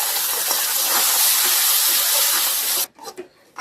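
Spinach puree hitting a hot pan sizzles in a loud, steady hiss for about three seconds, then cuts off abruptly, leaving faint scattered crackles as it settles.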